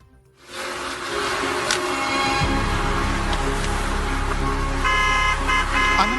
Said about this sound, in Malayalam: ദുബായിൽ അനാവശ്യമായി ഹോണടിക്കുന്ന ഡ്രൈവർമാർ ഇനി സൂക്ഷിക്കണം